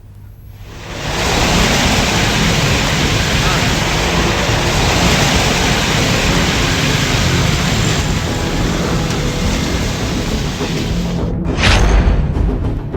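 Torrential monsoon rain and swollen, flooding rivers, a dense continuous roar of rushing water that stays loud and steady throughout, with no voices.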